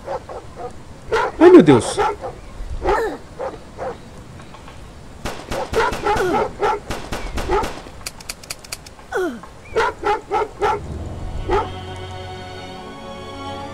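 Dogs barking and yipping in the PC video game Dahalo, several bursts of barks and whimpers scattered through the stretch, with a person talking over them at times.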